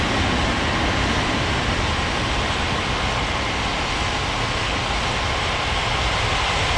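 An airliner roars steadily through a takeoff run at an airport in an air traffic control game, a dense continuous engine rumble and broadband rush that stays loud and unbroken throughout with no voices.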